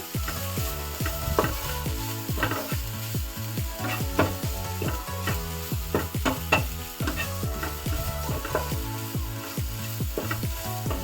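Ingredients with grated coconut are stirred and sautéed in a pan over a low flame for Karnataka-style kadale usali, with a soft continuous sizzle broken by repeated scraping strokes of a spoon.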